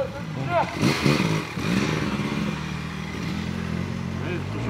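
A motorcycle engine rumbles and revs nearby while someone talks over it.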